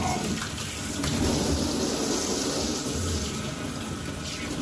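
Water sprays steadily from a handheld nozzle onto a French Bulldog's face while it is being washed, a continuous close rushing hiss with no break.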